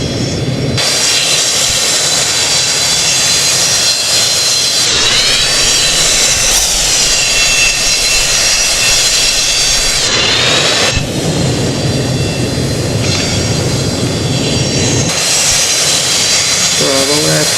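Boeing 727 jet engines in Project Flight, an Air Canada airliner flight game: a loud, steady roar with high whining tones that shift in pitch, continuous throughout with a voice briefly over it.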